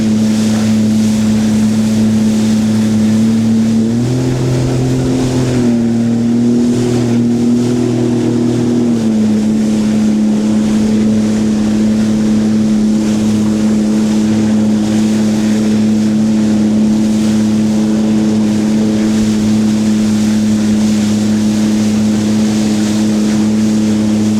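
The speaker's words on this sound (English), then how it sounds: "There's a boat going the other way." A motorboat drones loudly and steadily nearby, its engine hum shifting pitch briefly, with wind buffeting the microphone and water rushing underneath.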